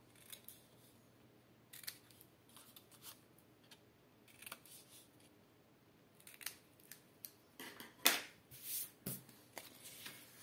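Scissors snip the corners of cardstock for a handmade Easter box: a series of short, crisp cuts, sparse at first and then quicker and louder near the end, close up and quiet between snips, with no talking.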